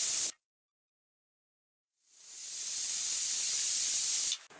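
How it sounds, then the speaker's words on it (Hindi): A pressure cooker of chole on a high gas flame vents steam: a brief sharp hiss cuts off, then after a pause a loud, steady, rushing hiss builds and holds for a couple of seconds before stopping abruptly. "देखिए इसमें 2 विसल आ चुकी हैं।"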